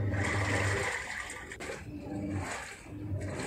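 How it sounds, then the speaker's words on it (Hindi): A steady rushing, sloshing water sound churns inside a Godrej 6.2 kg top-load fully automatic washing machine washing clothes after filling, moderately loud and continuous. "अभी पानी लेने के बाद कपड़े को वॉश कर रहा है"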